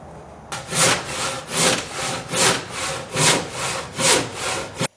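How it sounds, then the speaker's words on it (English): A handsaw cutting a wooden block in half, close and clear, with about eight rhythmic push-pull rasping strokes that start abruptly after a short quiet moment and stop sharply at the end. "cut this block in half, and I'm just going to do that with a handsaw here"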